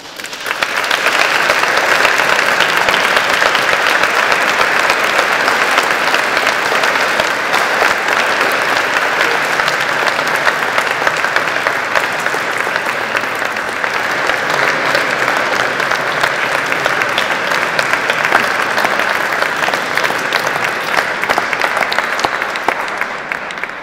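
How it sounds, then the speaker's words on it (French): A large theatre audience claps in a loud, sustained ovation that holds at full strength for over twenty seconds before easing slightly at the end. "Sous un tonnerre d'applaudissements"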